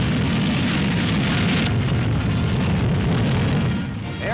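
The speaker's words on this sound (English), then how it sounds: "At White Sands, New Mexico, the huge missile takes off." A captured German V-2 rocket lifts off at White Sands, New Mexico, a loud, continuous broadband roar with heavy low rumble that holds steady for several seconds before easing slightly at the end.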